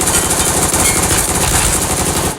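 Sustained rapid automatic gunfire from a test-fired weapon in PUBG Mobile, loud and continuous for the whole stretch with dense, rattling shots and no talk.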